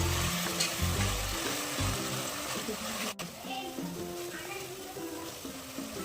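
Ground masala frying in oil in a pan, with a dense continuous sizzle and light stirring. A voice talks over it near the start.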